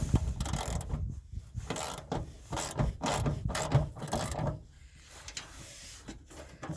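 A wrench loosens a bolt on a 1987 Ford Ranger, with close ratcheting clicks in short irregular bursts separated by brief pauses, and no speech.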